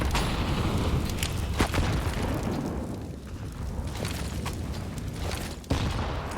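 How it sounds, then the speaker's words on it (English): Grenades detonate in a Counter-Strike match on the Inferno map, heavy booms and sharp pops repeating over a dense, rumbling game soundscape with no talk. "Nades being exchanged."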